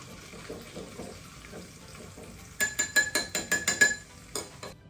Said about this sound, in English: we are going to slowly pour into the small bowl, so tiny bit at a time, and then give everything a quick stir